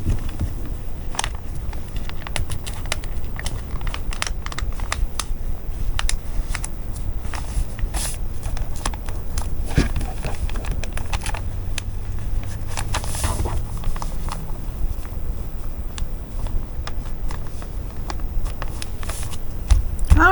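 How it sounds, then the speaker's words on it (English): Scissors cut through four stacked layers of fabric at once, giving a long run of crisp, close snipping and crunching clicks in an uneven rhythm over a low rustling background. "I believe I can cut all 4 of these at one go."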